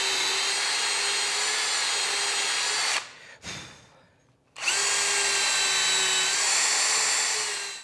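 A power drill whines steadily and loudly up close while drilling into wood for a table saw crosscut sled, stopping briefly mid-way before running again at full speed.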